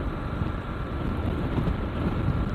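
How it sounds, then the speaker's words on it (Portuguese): Strong wind buffets an action camera's microphone, a dense, steady low rumble of gusty noise filling the whole clip with no voices. "Tá mó vento e provavelmente o vento não tá saindo aí no áudio."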